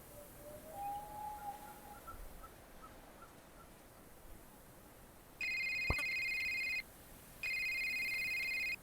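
A telephone rings in the video game A Short Hike: two steady electronic rings, each lasting over a second, stand clear and fairly loud above a quiet, airy game background with faint bird-like calls.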